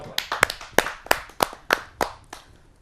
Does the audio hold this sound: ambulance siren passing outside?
no